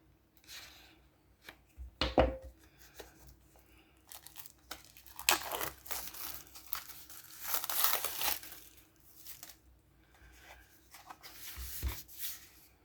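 Someone cuts and tears open the plastic packaging of a Shure M97xE phono cartridge, producing close crinkling, slicing and crackling bursts scattered in irregular clusters with quiet pauses between and no talking.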